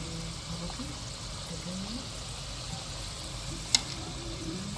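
Ground turkey is stirred in a hot pan, a soft continuous sizzle with faint scraping and one sharp tap of the utensil near the end, low in level with a home kitchen murmur around it.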